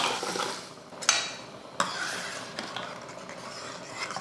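Dal is tipped into sago in a cooking pot and stirred, with a steady scraping stir and two sharp utensil clinks against the metal pot, close and moderately loud.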